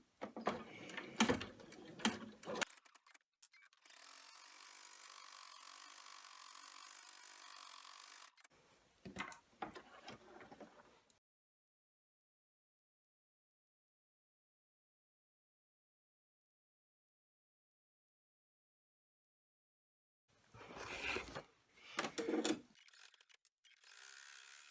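An embroidery machine sews a placement stitch on fabric for an in-the-hoop coin pouch keychain, giving quiet mechanical clattering and a steady hum in short runs separated by a long silence.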